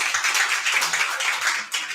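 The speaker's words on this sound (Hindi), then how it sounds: "जोरदार तालियों से स्वागत करेंगे भाई" An audience claps loudly to welcome a CGPSC 2024 topper at a felicitation event, a brisk, continuous burst of many hands close by, thinning briefly near the end.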